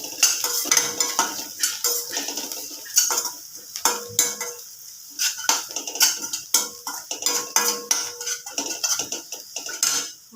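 Leftover masala sautéed in oil in a pan, with frequent metal spoon scrapes and clinks against the pan over a soft sizzle, close and busy throughout.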